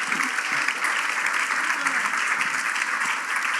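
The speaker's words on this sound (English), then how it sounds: "Let's give one more round of applause to our esteemed panelists and 2 demos tonight" An audience at an IT infrastructure panel evening gives panelists and demo presenters a sustained round of applause, even and steady clapping from many people throughout.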